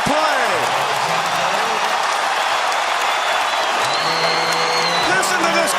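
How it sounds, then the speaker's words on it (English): A basketball arena crowd in Houston roars continuously for James Harden's record-setting scoring night, dense loud cheering and applause with whoops, shoe squeaks and an announcer's voice underneath. "Listen to this crowd as they just now figure out that Calvin Murphy's record has finally fallen"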